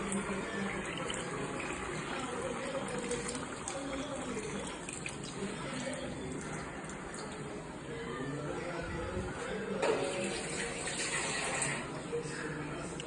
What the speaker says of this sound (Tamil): இப்போ புளி தண்ணி வந்து ஆட் பண்ணுவோம்